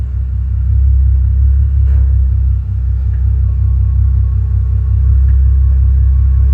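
A Bentley Continental GT with worn control-arm bushings rolls back and forth during a suspension check, giving a loud, steady low engine rumble with faint knocks and no speech.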